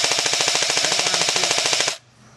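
An airsoft gun fires a rapid full-auto burst during an outdoor team game, a fast, even string of sharp cracks lasting about two seconds before cutting off abruptly into quiet.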